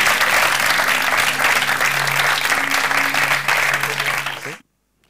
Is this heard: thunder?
no